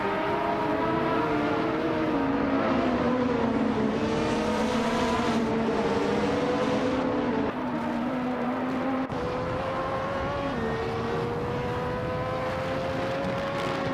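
Racing cars roar past in a continuous loud engine drone with rising and falling pitch, a Ferrari F18788C among the field, the engine notes shifting as cars accelerate and pass, no talking.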